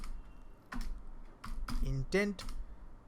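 Typing code on a computer keyboard, a quick scattered series of clicking keystrokes, close and fairly quiet, mixed in with a person talking.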